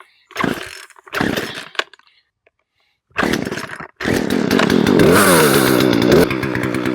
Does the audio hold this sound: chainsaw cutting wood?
yes